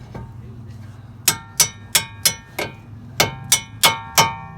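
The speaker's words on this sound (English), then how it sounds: "then you take a hammer, smack these out." Eight sharp metallic hammer strikes on a 2006 Kia Sedona's axle parts ring out in two quick bursts of four, each blow clanging with a short ringing decay.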